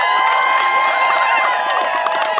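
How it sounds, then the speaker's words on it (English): A crowd at an outdoor solidarity rally claps and cheers loudly and continuously, with whoops and shouts mixed into a dense, bright roar of applause. "Another round of applause."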